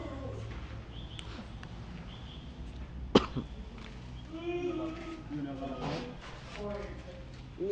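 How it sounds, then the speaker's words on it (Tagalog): A single sharp cough bursts out amid quiet background chatter, followed by people talking. "Ibang klase yung ubo mo ah."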